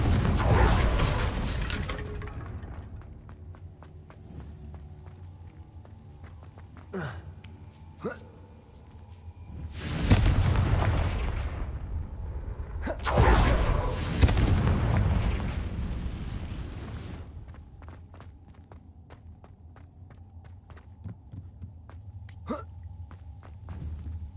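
Confringo blasting spells in a Harry Potter video game set off several deep booming explosions with long rumbling tails, alongside sharp snaps and crackles, while a voice calls out spell names.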